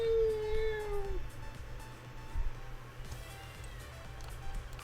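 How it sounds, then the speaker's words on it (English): A cat whose tail was just stepped on lets out one loud, drawn-out angry yowl that falls away after about a second, then fainter background noise continues with no talking. "somebody stepped on a cat's tail"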